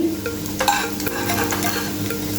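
Green pea tikki patties frying in a pan, with a steady close sizzle and a few short scraping, stirring bursts over the top.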